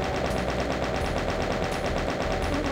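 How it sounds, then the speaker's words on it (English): A chain gun fires continuously in Voxel Doom 2 as a rapid, even stream of shots that stays loud and unbroken from start to finish, with no speech over it. "I think I'll use chain gun."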